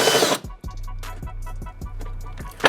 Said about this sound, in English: I'm gonna try to drill through that insulation and see how far we get